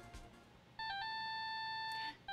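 Electronic phone ringtone from the video game Phoenix Wright: Justice For All, a steady high melodic beeping tone that plays clearly for over a second after a brief quiet start, with no talking.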